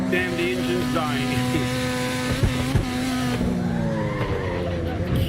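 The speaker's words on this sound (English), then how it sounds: "The car is just losing grip." A car's tires squeal and skid in the racing game Assetto Corsa, a sustained whining screech with shifting pitch over a droning engine, and a voice talks over it.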